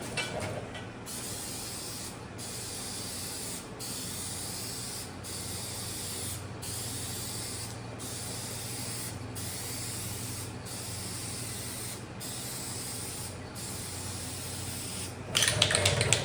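Rattle can of spray paint laying down a coat, a long steady hiss held close and continuous, broken by brief regular pauses between passes, with no talking.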